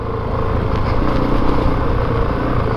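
A 2022 Honda CRF450RX dirt bike is ridden hard, its loud, steady four-stroke engine roar close and continuous, with a gritty buzzing note and no talk.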